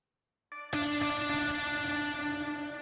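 A Labs piano sample run through a guitar amp: a soft pickup note then a sustained chord with a buzzy, distorted ringing tail, heard alone.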